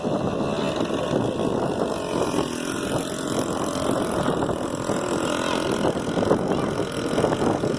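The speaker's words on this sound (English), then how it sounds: "Got the idle all worked out, got everything all worked out, running good now." A 1986 Suzuki ATV engine idles steadily and close by, a continuous buzzing drone that stays even throughout with light wind noise across the microphone.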